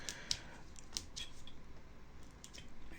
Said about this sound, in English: I can use the same chisel blade that I used before to separate this from the base. Just cutting away the hot glue.